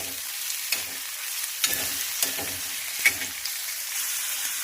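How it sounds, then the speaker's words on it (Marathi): Finely chopped tomatoes frying in a pan for street-style anda bhurji, giving a steady, close hiss of sizzling oil with soft periodic scrapes of stirring. "बारीक टोमॅटो आपल्याला कट करून घ्यायचा आहे म्हणजे तो छान फ्राय होईल"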